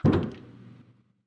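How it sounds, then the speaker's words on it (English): A door thumps and swings open in a quiet room, one solid knock-like impact followed by a short fading rumble, heard alone with no voices. "I opened the door"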